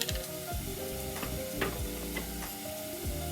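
Meat sizzles and fries in a pot for a hotpot dish while a spatula stirs and scrapes it, giving steady crackling with repeated knocks of the utensil, close and continuous.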